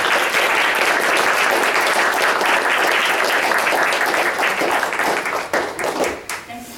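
A church audience gives a warm round of applause welcoming Reverend Shaw, dense clapping that thins into scattered claps at the end.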